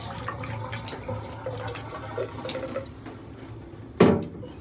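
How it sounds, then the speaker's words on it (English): Water from a handheld filtered shower head hisses steadily as it sprays tiles clean, a continuous broadband rush broken by a sharper, louder splash near the end. "It's got pressure enough to wash the tiles down."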